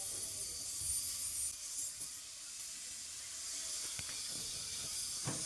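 Marinated chicken pieces sizzling on the wire grate of a barbecue grill: a faint, steady hiss with a few soft clicks and pops.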